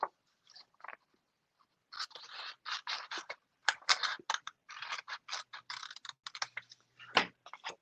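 Paper being snipped with scissors while making a pop-up Easter card, a quick run of close, crisp cutting crunches in short bursts after a brief pause, no talking.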